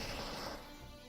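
A bomb explodes on an infantry squad in the war game Men of War Arena: a single loud, broad blast that decays into rumbling debris within about a second.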